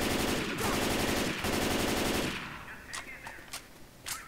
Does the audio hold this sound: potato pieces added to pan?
no